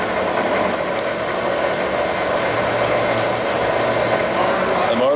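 A lathe runs steadily while cutting a thread on a shaft with lubrication, giving a constant loud whirring hum with a faint rising whine near the end.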